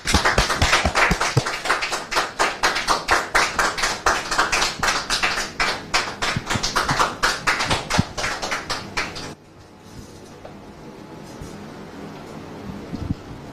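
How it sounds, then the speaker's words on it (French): A TV talk show studio audience claps for about nine seconds, dense sharp hand claps at a steady loud level, then it stops abruptly and quiet room tone follows. "Le public, merci de le recevoir avec vos applaudissements."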